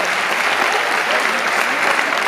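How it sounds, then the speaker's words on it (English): A crowd at an onboard bingo game on the Parahoy cruise with CHVRCHES applauds seven winners, a loud, close, dense wash of clapping that holds steady throughout. "Round of applause for seven people"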